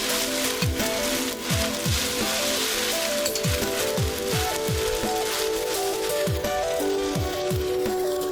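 Garlic and a starch batter of an oyster seaweed omelette sizzle in hot oil, a dense steady crackle with background music running throughout.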